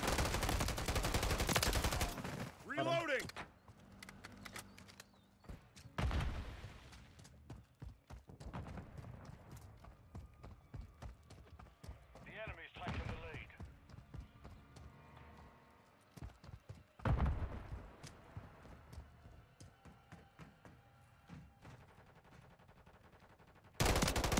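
Gunfire in Call of Duty: Modern Warfare III, with several loud bursts and scattered shots amid rattling game noise and footsteps, some bursts close and sharp, others quieter in between.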